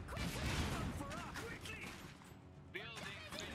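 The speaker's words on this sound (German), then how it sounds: "Hier ist ein Sniper-Schuss mitten rein." A loud sniper rifle shot cracks in a busy Iron Harvest game soundscape, with talk and chatter throughout and further bursts of gunfire around it.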